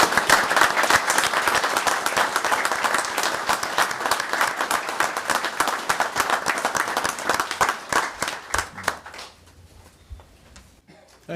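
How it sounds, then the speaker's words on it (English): A roomful of people at a county commissioners meeting applauds a state police helicopter crew of flight paramedics, with steady, dense clapping that thins into scattered claps and fades out near the end. "Can we give him a round of applause,"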